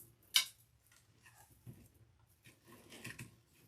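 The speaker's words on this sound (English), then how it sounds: "if you just close the wire nipper just a little bit and pull, it does work as a needle, like a needle nose plier, and then snip it off." A wire nipper snipping wire, one crisp close snip near the start followed by faint rubbing and small clicks, with no talking.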